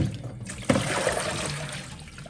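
Saltfish (codfish) rinsed under running water, a steady close splashing stream from a tap pouring over the fish with a brief louder splash partway through.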